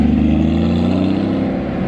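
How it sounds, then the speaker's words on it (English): Steady engine drone from a Porsche Cayman at a Buttonwillow track day, a low sustained rumble that holds at a fairly loud level without clear revving. "Look at this Cayman."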